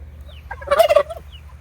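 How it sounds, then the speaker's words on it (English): Turkeys gobbling indoors, kept in a brooder box inside a house: one loud, rapid warbling gobble burst in the middle of the clip, close and clear over a low background hum. "the turkeys are here because they always want to be in the middle of things"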